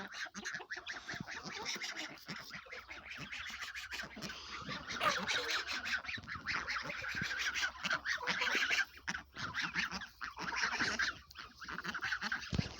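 Domestic poultry in a farmyard, chickens feeding amid a busy chorus of clucks and honk-like calls from nearby fowl, steady and fairly close with no talk.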